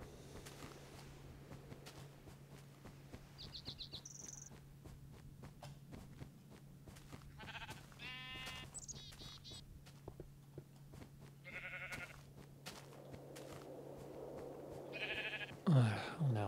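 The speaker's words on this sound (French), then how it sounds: "C'est pété de moutons maintenant." Sheep in the Minecraft video game bleat several times, short wavering calls scattered over a quiet low hum, some near and some fainter, with occasional footsteps.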